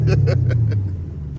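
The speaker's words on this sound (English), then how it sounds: "revving that Camaro over there" A Chevrolet Camaro engine revs among street traffic, a steady low rumbling drone with a few brief rising pulses, loud and close for about a second and a half.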